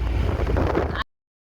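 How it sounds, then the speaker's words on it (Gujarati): A strong gust buffets the microphone at Dwarka with a loud, low roaring rumble for about a second before cutting off abruptly. "પવન બહુ જ આવે છે."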